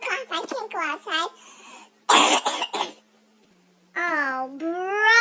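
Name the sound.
cough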